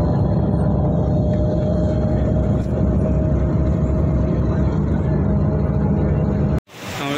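Riding the Islamabad Metro bus, a steady loud engine and road rumble drones continuously from inside the vehicle, then cuts off abruptly near the end.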